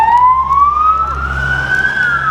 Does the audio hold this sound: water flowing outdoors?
no